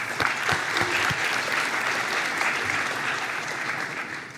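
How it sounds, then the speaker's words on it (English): Audience at a 2023 observability conference in Amsterdam breaks into sustained clapping, dense and loud from the start and tapering slightly at the end, with a few distinct near hand claps at the beginning. "so just a round of applause"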